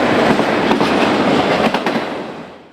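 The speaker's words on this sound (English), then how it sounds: "we can make out the faint headlight of a manifest following closely behind the tail end of the westbound Z train" A BNSF westbound Z intermodal train rolls past with a loud, steady rumble and rhythmic wheel clatter over rail joints, fading away as the tail end passes.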